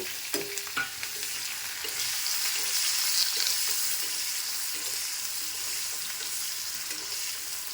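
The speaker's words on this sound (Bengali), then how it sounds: "পেঁয়াজটা যখন আমি ভাজা করছি তখন একটু সামান্য লবণ দেবো" Onions sizzle steadily in a hot pan, a constant crackling hiss with a few light stirring scrapes, no voices.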